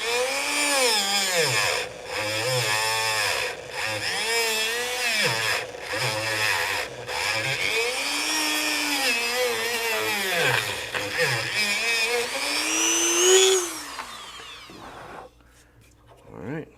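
A power tool sands out a rifle stock, its motor whining loudly and steadily while the pitch repeatedly dips and climbs as it bites into the workpiece, before spinning down near the end.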